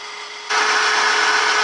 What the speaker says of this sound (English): there ain't been nothing pleasurable about drilling this hole